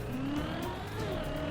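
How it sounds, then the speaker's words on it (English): Ghost car engine in the Trackmania racing game, a steady whining, revving motor tone with pitch shifts as gears change, continuous and fairly loud, no voices. "I wish I could have my ghost, but just not hear his engine"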